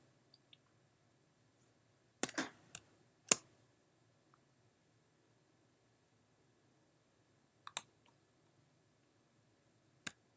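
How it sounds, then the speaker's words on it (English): Sparse computer mouse clicks, a quick cluster of sharp taps followed by a few isolated clicks, close and crisp against near silence. "Then we're going to click on this, and we're going to drag it straight up in."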